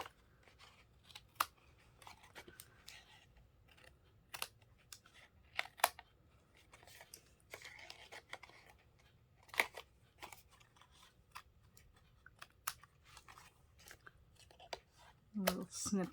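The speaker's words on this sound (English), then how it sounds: "Let's go ahead and snip there, snip there, snip there, snip there, and snip there." Scissors snip card for a Father's Day card in a series of sharp, close, separate cuts spaced irregularly across a quiet room, with a soft voice talking between them.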